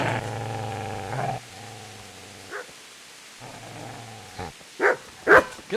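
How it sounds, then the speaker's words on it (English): Dog in Kingdom Come: Deliverance, a long low growl that gives way to several sharp, close barks in quick succession near the end. "Get away, you mutt!"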